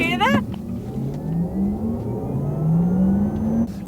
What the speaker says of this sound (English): see if the microphone can pick up the sound of the electric engine